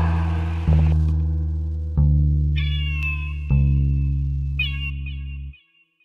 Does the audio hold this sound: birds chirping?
no